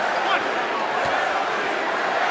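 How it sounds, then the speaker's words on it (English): Basketball crowd in an arena during a Nets versus Knicks game, a dense, steady roar of cheering fans, with a commentator talking over it. "Jeremy, that's what the fans are cheering here, Clyde."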